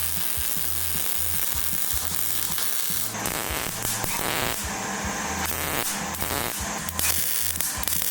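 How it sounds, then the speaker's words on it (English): An exhaust hanger is welded onto a station wagon, producing a continuous, close crackling sizzle with uneven bursts of harsher spitting across the whole stretch. "now I just gotta weld it."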